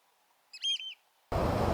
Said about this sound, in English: One of the most amazing shorebird spectacles at Shellness is the high tide roost of oystercatchers.